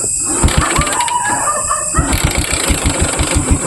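A broken-down vehicle's engine cranks and catches, then settles into a loud, close, steady chugging idle with regular low pulses and a faint high whine running through it, with no speech over it.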